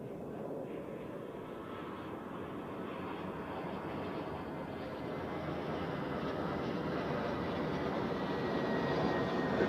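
A jet airliner at Zurich Airport, a broad, distant engine roar that swells gradually louder over the whole stretch with no voices.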